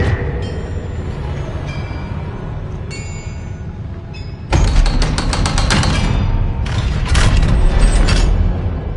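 A Bombarda spell explosion in Hogwarts Legacy hits with an abrupt loud crash and crackling debris, followed by further bursts over a steady game background with no talking.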